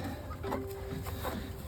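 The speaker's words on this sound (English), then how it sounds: "So we have a broody hen," A broody hen in a chicken run gives soft, low clucks and murmurs, faint and close, over a steady background hiss.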